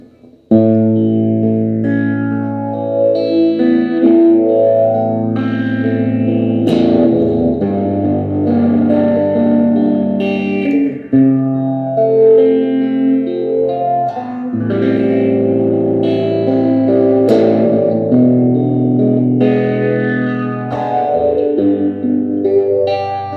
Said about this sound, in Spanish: el mío básicamente es eso, un phaser con un ampli de los 60